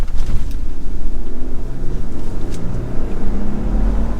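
Luxury off-road SUV, either a 2024 Land Rover Defender 110 or a Lexus GX550, accelerating under throttle, a loud rising engine drone with road and wind noise heard from the cabin.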